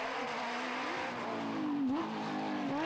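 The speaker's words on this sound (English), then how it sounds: "Tim van Parijs getting his Porsche around the corners in spectacular fashion" A Porsche rally car corners hard on a rally stage, its engine loud and close, revving steadily with pitch rising and dipping through the turn.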